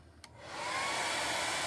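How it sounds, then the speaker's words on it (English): A blow dryer switches on after a small click and ramps up to a steady, loud whoosh of air, used to dry a wet-on-wet watercolor wash on paper. "You can see how the blow dryer, you do have to be careful with it."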